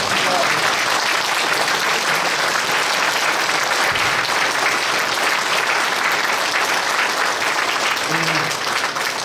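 Delegates at the general assembly of the Christian Council of Korea rise for a standing ovation. Loud, sustained applause fills the hall for about nine seconds, and a brief voice surfaces near the end.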